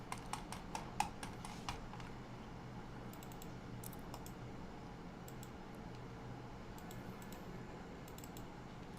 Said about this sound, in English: It's called a mechanical keyboard,